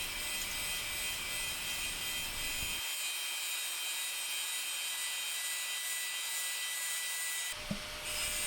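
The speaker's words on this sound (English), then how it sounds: "I begin to make longer passes with the grinder, because I want to have an even finish down here." Angle grinder held against the cutting edge of a Yardworks 3.5 lb fiberglass axe, a steady loud whine with harsh grit over the full stretch, settling into long even passes, briefly dipping near the end.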